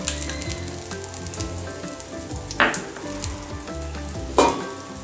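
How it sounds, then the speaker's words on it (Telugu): A spicy masala egg omelette fries in oil in a pan with a steady, close sizzle throughout, broken by a couple of brief louder scrapes or stirs. "ఇలా లూజ్గా వచ్చేస్తే కింది సైడ్ కొంచెం ఫ్రై అయినట్టు"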